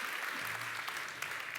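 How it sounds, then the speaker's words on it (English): A crowd applauds after a design lecture, steady dense clapping at moderate level throughout, with a few sharper individual claps standing out. "Let's give it a big applause"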